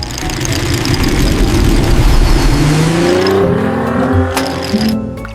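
A car engine revs loudly and steadily, with the pitch rising and falling. A tire squeal comes through near the end, and the sound is heard alone with no voices.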